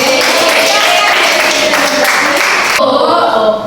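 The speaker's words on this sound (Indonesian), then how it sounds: "Dan tepuk tangan untuk kita semua" A small group in a classroom teaching session claps loudly together for a few seconds before the clapping cuts off, with voices talking over it.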